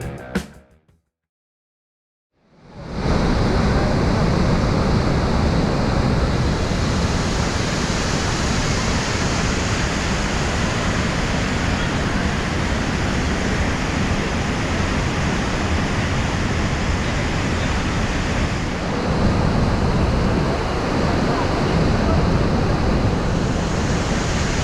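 Bridal Veil Falls at Niagara Falls, reached on the Cave of the Winds tour: after a couple of seconds of near silence, a loud, unbroken roar of crashing water fills everything, up close and with no talking.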